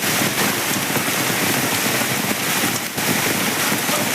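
After rain, runoff pours continuously under a roadside culvert bridge on NH 66 in Malappuram, a loud, even hiss of flowing water filling the scene from start to finish.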